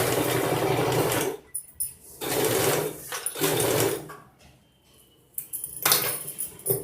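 A sewing machine stitches along canvas on a saree being made into a frock, running in loud close bursts of a few seconds with short pauses and small handling clicks between runs.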